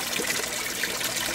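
Water circulates through a hot tub aquaponics system with a new biofilter and plumbing, giving a soft, continuous trickle and gurgle close by.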